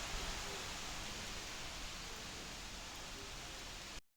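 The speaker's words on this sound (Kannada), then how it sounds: "ಎಷ್ಟು ಮಳೆ ಬರ್ತೈತೆ" Heavy rain pours steadily in a village, a dense continuous hiss of downpour close by, loud and unbroken throughout with no voices.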